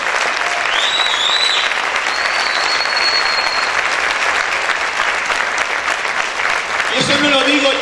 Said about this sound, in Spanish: Ese aplauso es para el Señor, déselo fuerte.